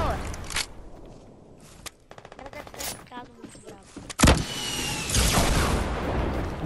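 Gunfire in the Fortnite video game: bursts of rapid shots and single sharp cracks, loud and close, with brief gaps between volleys and a denser, louder stretch of shooting near the end.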